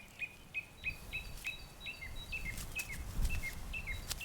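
Birds call in a rapid series of short, high chirps repeating about every third of a second, faint and fairly distant, over a soft background hiss with no voices.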